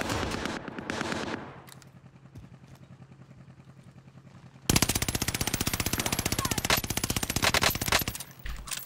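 AS44 assault rifle fire in Warzone: a short burst, then a long sustained stream of rapid, loud, evenly spaced shots, close and dense, with quieter game ambience before it.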